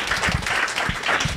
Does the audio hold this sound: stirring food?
no